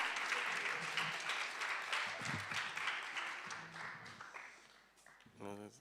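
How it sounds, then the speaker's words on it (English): An audience claps at a live online poetry jam. Dense, steady applause gradually thins and fades, with a faint voice near the end. "Can we keep the claps going, please?"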